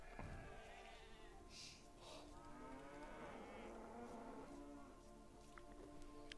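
A cow lowing inside the strategy game Age of Empires 2 Definitive Edition, a drawn-out moo heard once amid a steady game soundscape with faint buzzing insects and other ambient effects.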